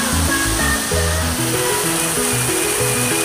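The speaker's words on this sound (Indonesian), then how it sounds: "Air terjun Minanga, salah satu air terjun terindah terbalik di Kalimantan Selatan." Minanga waterfall in the Meratus area of South Kalimantan gives a steady, loud rushing roar that runs unbroken through the whole stretch, with music playing over it.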